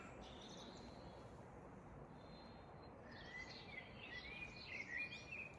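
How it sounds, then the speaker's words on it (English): Faint birdsong at dawn rises over a steady outdoor hiss along a long overnight running route, a few thin chirps and trills growing busier toward the end. "It's the first of the bird song."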